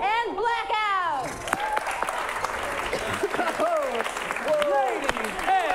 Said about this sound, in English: Give a round of applause for everybody in the Curious Comedy Theater.